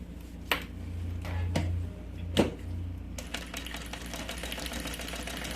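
A sewing machine topstitching along each side of a fabric triple pencil case, heard up close: a few sharp clicks and thumps of handling, then a steady fast mechanical stitching rattle that runs to the end.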